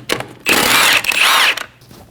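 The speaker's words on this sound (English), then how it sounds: "Using a 17mm socket, remove the 5 lug studs." A power impact tool spins off a lug bolt with a 17mm socket on a 2012-2022 Volkswagen Passat wheel, giving two loud, close whirring bursts of about half a second each, with short clicks before and after.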